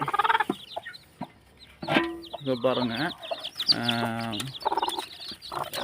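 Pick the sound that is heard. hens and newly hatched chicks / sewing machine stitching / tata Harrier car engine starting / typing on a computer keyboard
hens and newly hatched chicks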